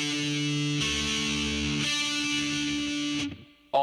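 Heavy metal electric guitar with distortion sounding the notes of a chord shape one at a time, three sustained ringing notes each struck in turn, then cut off abruptly near the end.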